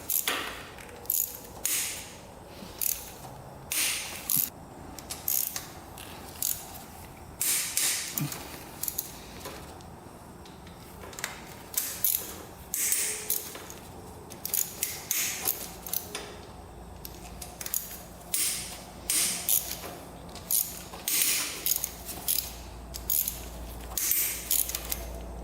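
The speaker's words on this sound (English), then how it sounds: "go in reverse with the wrench here, and then you can kind of work it loose" A wrench ratchets and clicks as bolts are worked loose on a Honda 400ex big bore engine, with irregular bursts of close metallic clicking and short pauses over a quiet background.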